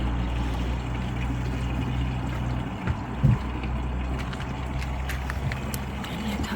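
Pressed grape must pours steadily from a wine press during home winemaking, a continuous low liquid rush and trickle holding an even level throughout, with a brief louder splash near the middle and no talking.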